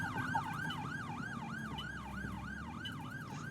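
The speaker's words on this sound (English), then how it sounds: "Let's get out of the way of the ambulance." An ambulance siren in the OMSI 2 bus simulator game wails in a fast, regular up-and-down sweep over low engine rumble, fairly faint and continuous.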